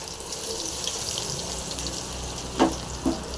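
Cauliflower 65 pieces fry in hot oil with a constant crackling sizzle, and two brief louder bursts near the end as more pieces drop in.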